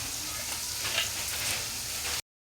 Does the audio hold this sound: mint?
yes